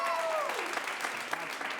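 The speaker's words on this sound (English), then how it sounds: "clap for everyone, clap loudest for the film you want to see go on" An audience at an improv comedy show claps steadily throughout, a dense, continuous burst of applause from a crowd in a performance space, with a voice briefly audible over it.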